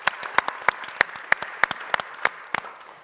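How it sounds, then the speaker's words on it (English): A small audience claps in sparse, distinct hand claps, a dozen or so sharp strikes spaced irregularly over a few seconds, close and moderately loud, with no speech. "a round of applause"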